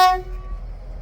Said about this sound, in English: Blow your horn, please.